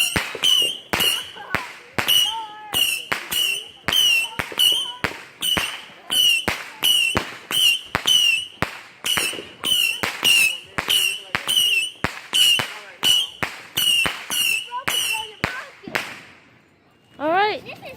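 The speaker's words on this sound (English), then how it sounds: "Next firework, guys. This is fireworks here." Rapid string of sharp firework or firecracker bangs, dozens of loud close cracks in quick irregular succession, some with brief whistling crackle, ending in a quieter tail.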